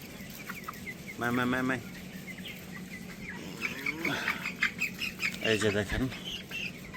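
Broiler chickens around day 20 clucking in a poultry shed with dry wood-shavings litter, short squawking bursts over a steady hum while a person talks nearby.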